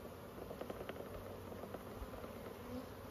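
Honeybees buzzing softly around a brood frame that has just been shaken, a low, steady hum close by with a few sharper passes of individual bees.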